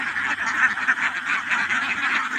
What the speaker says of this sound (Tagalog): napakagandang tingnan na yung mga alagang itik natin